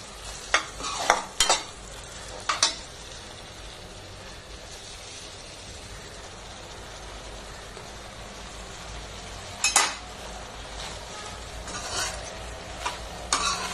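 Coconut tomato rice is stirred in a sizzling kadai, with scattered scraping clinks of a spoon against the metal over a steady low frying hiss.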